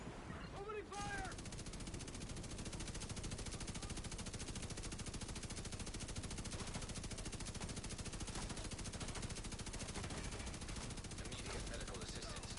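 Dense automatic gunfire in The Division 2 during master and manhunt missions rattles on without pause, loud and continuous, with a brief chirpy effect at the very start.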